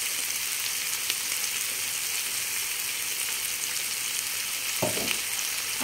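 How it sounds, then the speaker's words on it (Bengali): Meat frying in a pan with soy sauce poured in, making a constant dense sizzle with a brief clatter of stirring near the end. "আমার মাংসটা অলমোস্ট ফ্রাই করা হয়ে গেছে। এর ভিতরে এখন একটু অ্যাড করব সয়া সস"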